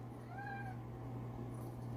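A pet cat meows twice in quick rising-falling cries, close and clear over a steady low indoor hum.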